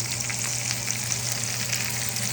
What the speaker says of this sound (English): making steak on the cast iron today using butter